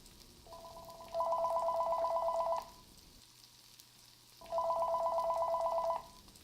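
A telephone rings in two long electronic trills separated by a short gap, moderately loud against a quiet background hiss, with no talking.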